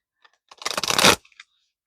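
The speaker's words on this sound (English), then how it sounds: "One more shuffle." A brief riffle of a deck of tarot cards being shuffled, a quick fluttering burst of card edges lasting under a second, close and clear, with a few faint taps before and after.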